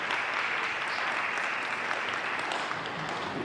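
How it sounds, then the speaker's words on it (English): Audience at a housing symposium gives a round of applause, a continuous wash of many hands clapping, fairly soft and even, with no gaps. "Let's give you a round of applause."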